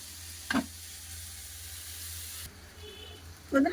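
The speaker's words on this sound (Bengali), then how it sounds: "হলুদ গুঁড়ো, মাংসটা চাপা দেবো না, এমনি এর ভাবে ভেজে নেবো।" Meat frying uncovered in a pan with salt and turmeric powder, a steady close sizzle that runs continuously, with a couple of short clattering stirs or scrapes and a slight drop in the hiss partway through.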